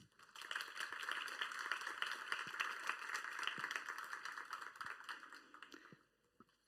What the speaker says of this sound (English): Can we have a short round of applause?